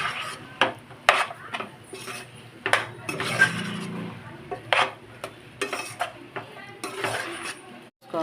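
A spoon stirs cauliflower and chana dal curry in a metal pan, giving repeated scraping clinks and knocks at an uneven rhythm, with a soft sizzle underneath, close and fairly clear.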